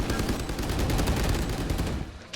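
Rapid gunfire from a wall bang in a Valorant match at a Champions Tour 2023 EMEA League esports game, a dense, loud burst of shots firing continuously for about two seconds before cutting off.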